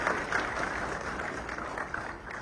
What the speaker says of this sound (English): I think we need to clap for ourselves as a country